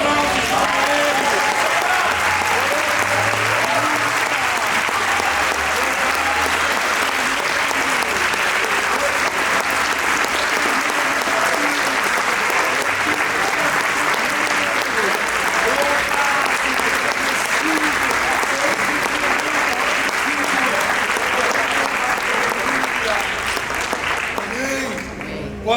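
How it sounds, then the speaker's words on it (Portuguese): A Baptist church congregation at a Sunday communion service breaks into sustained, loud applause that fills the room evenly for the whole stretch, with dense overlapping claps and crowd noise that barely fades. "Aplausos para ele."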